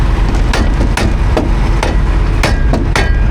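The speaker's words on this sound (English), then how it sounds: "That's how we're fixing things around here, just a hammer." Sharp hammer blows ring against metal, about six strikes spaced unevenly over a steady background hum, loud and close.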